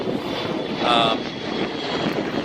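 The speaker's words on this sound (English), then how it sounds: "There's a little plane going off there in the background" A small propeller plane takes off at an airport in the background, a steady distant engine drone that swells briefly before easing back.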